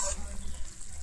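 Small amount of water boiling hard in egg korma curry in a pan, a brief steady bubbling sizzle at moderate volume.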